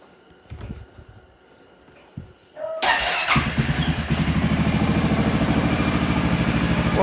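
Key clicks and a brief crank on a 2020 750 ATV fitted with a KFI winch, then the engine catches and settles into a loud, steady idle close by.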